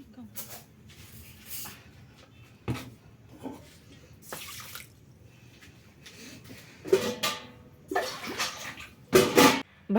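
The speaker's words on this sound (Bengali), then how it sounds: "আর এবারে চাল ধুয়ে নিচ্ছি, ভাত বসাবো।" Rice is washed in water with irregular splashes and sloshing bursts, growing louder and busier toward the end, while voices talk in between.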